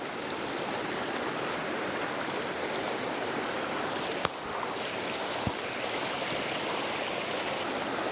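A stream of moving water rushing steadily over a creek bed, a constant broadband wash close by with a couple of brief faint clicks, no voices.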